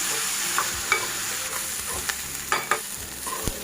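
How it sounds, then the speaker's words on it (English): Chopped onions frying in oil in a pan, a steady broadband sizzle with occasional sharper stirring clacks and scrapes scattered through, close and moderately loud with no talking. "add 2 to 3 tablespoons of oil. Add 3 chopped onions. And roast it till brown."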